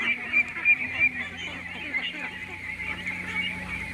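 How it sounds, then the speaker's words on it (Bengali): A large crowd of multicoloured ducklings, around a thousand, peep and call continuously in a dense chorus, with a few louder honking calls standing out early on and a voice faintly present. "দেখেন অনেক রঙের হাঁসের বাচ্চা"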